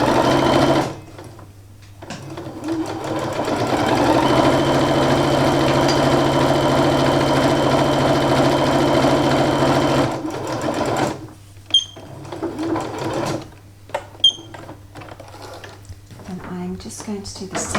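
Sewing machine stitching a straight seam on a bag for bunting, a loud sustained mechanical whir running for about nine seconds, followed by short bursts and fabric handling noises.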